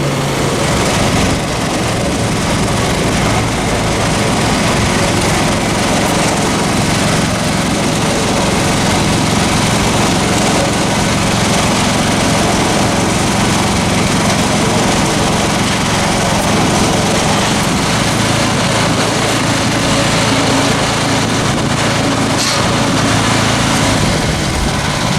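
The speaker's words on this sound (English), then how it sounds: "so this is a 2-bag mixer. This is a 2-bag mixer, and it's 2 bags they use, 35 shovels full of sand." Two-bag stucco mortar mixer running steadily on a job site, a continuous loud engine drone with a rattling, whirring drum that holds evenly throughout with no talk.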